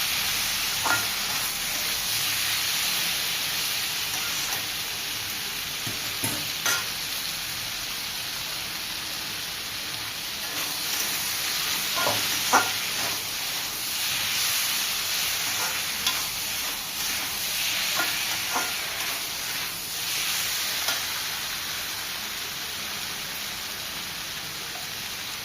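Pumpkin curry sizzles steadily in a pan, a continuous rain-like frying hiss, broken by intermittent scrapes and clicks of a spoon stirring it.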